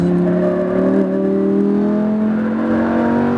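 A Lamborghini Huracan accelerates hard on a racetrack, its engine note rising steadily in a loud, continuous climb heard from inside the car with no other sounds.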